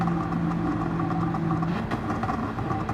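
Anti-lag exhaust pops crackle from a tuned race car in Gran Turismo 7, a steady engine drone with irregular popping bursts running continuously throughout.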